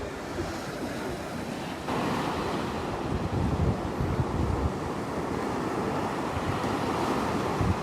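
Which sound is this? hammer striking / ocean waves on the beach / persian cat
ocean waves on the beach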